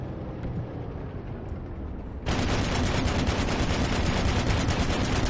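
Rapid bursts of tank gunfire in a video game, starting faintly and then jumping to a loud, dense, continuous stream of shots that runs to the end with no talk.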